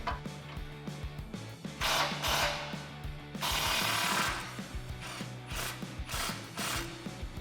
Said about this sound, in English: Grab a 15mm socket and let's get this loose.